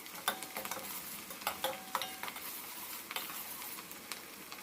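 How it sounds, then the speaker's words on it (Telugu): Chopped onions frying in hot oil for a fish curry, giving a steady soft sizzle with repeated light clicks and scrapes of stirring, fairly quiet and close, with no voices. "ఆయిల్ హీట్ అయింది కదా. ఇప్పుడు కట్ చేసి పెట్టుకున్న ఆనియన్స్ వేసుకుందాం."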